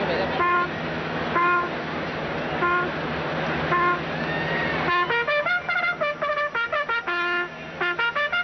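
Bugle call sounding the post at the 1991 Kentucky Derby, played by a female bugler: clear brassy repeated phrases, sustained notes then a quicker staccato run of short rising toots, loud and close over a faint crowd murmur.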